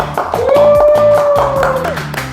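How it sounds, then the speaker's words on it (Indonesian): A group claps hands in a workshop gathering honoring a national master mechanic champion, a spread of sharp claps under a sustained whistling or humming tone, with a voice mixed in. "Loh, tepuk tangan teman-teman."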